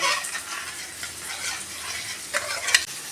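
Tomato sauce being stirred into a batter mixture in a pan for an egg dish, with steady close scraping and swishing strokes and a faint sizzle underneath, rising to a few sharper scrapes near the end.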